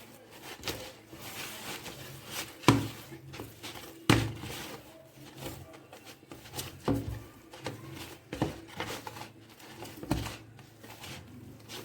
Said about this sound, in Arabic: هنفضل نعجن لحد العجينة ما تلم معانا كويس